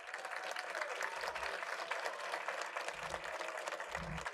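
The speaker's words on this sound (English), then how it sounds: "Let's give all of our winners a round of applause." A round of applause for the winners at a school board of education meeting, steady clapping from a modest crowd in a room, moderately distant and continuous, with a few low thumps.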